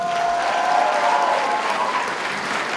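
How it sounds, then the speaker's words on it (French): Loud, dense applause from an audience at a live event, sustained clapping filling the room at close range, with faint crowd murmur underneath. "On l'applaudit fort."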